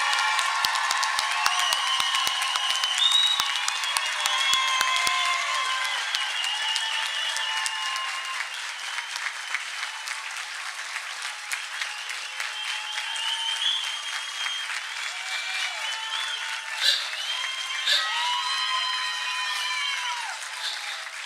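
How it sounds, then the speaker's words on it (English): At the Penn State Lehigh Valley 2024 commencement, an audience applauds the graduates in a long, loud, sustained wave of clapping, with scattered whoops and cheers rising above it and a few sharp claps standing out. "Will you please all join me in applauding our graduates?"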